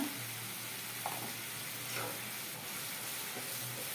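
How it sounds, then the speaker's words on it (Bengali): Mustard paste with turmeric sautéing in hot oil, a steady close hiss and sizzle throughout, with a few faint scrapes from stirring. "এবার এটাকে খুব ভালো করে নাড়াতে হবে একটু হলুদ দিলাম"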